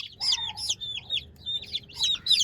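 An angry hen squawks and clucks in sharp, repeated bursts close by, in short irregular volleys with brief pauses between them and no voices.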